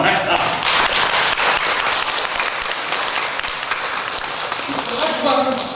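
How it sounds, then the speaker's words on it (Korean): Congregation applause at a church address, loud, sustained clapping from a large crowd that keeps going throughout, with some voices underneath. "박수 한번 합시다."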